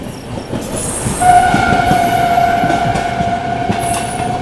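Sampoorna Kranti Express, train 12393 from Patna Rajendra Nagar to New Delhi, rolls into a station with a loud, sustained wheel squeal ringing over steady rumbling, and brief higher tones come and go.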